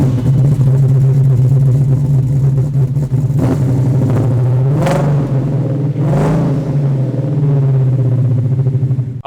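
A restored 1967 Ford Mustang convertible in Seafoam Metallic, its engine loud and steady in a deep idle, swelling through several strong revs near the middle of the stretch before settling back down.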